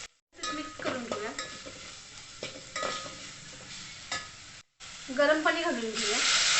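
Veg paneer Maggi with Maggi masala stirred in a hot pan, giving repeated scraping strokes over a steady close sizzle, with a short break midway and a brief voice near the end.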